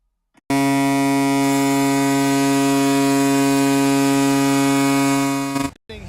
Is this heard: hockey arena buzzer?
yes